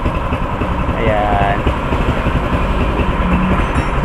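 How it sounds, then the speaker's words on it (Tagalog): A tricycle motorcycle engine runs in a steady, low, rumbling idle close by, with someone talking over it. "kanta-kantahan lang natin yung ating motor dito"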